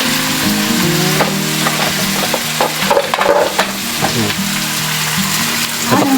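Adobong kangkong being stirred in a cooking pan, a loud continuous sizzle with repeated scraping strokes and clinks of the utensil throughout, with no voices.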